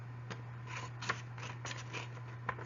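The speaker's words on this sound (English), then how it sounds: "we are going to measure and cut our construction paper to cover our craft tube" Scissors snip through folded construction paper for a craft tube cover, a few soft, crisp cuts spaced irregularly over a faint steady hum, close and quiet with no talking.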